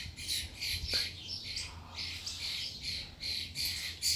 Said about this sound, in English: these two birds fighting